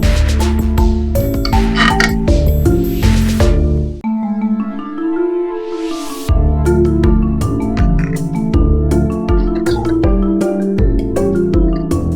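A manual domestic sewing machine modified for leather, with a rapid mechanical clatter and creaking, rhythmic and loud, pausing briefly with a whirring hum before the clacking resumes.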